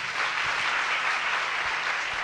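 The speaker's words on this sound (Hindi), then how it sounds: "एक बार जोर से ताली तो बजा।" An audience at a Bhagavat Katha gathering in a Gaudiya Math temple claps loudly, with continuous dense applause throughout and a few low thumps.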